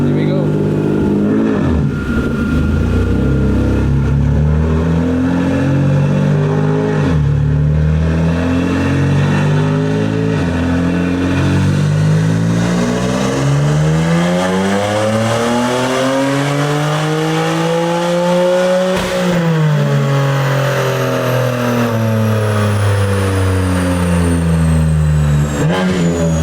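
A BMW F80 M3 engine revving hard on a dyno, one long loud pull with the pitch climbing steadily, dipping at a gear change and climbing again, close and continuous.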